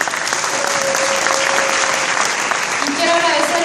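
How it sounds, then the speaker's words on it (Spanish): Sustained applause fills an awards ceremony hall at the MBN Ecuador 2014 awards, a dense, steady clapping from a large crowd lasting the whole stretch without letting up. "Quiero brindarles un fuerte aplauso a cada uno de ustedes"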